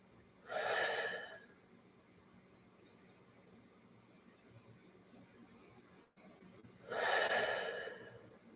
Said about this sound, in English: take a few breaths